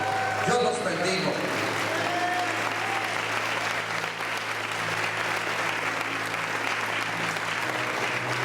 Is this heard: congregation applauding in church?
yes